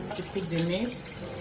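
Water runs from a tap into a pressure pot holding onion and meat for banga stew, a close, bubbling pour with a rising tonal fill over about a second.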